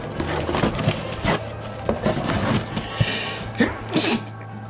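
A single human sneeze, brief and close, among scattered clatter and handling noises at a yard sale, with no talking.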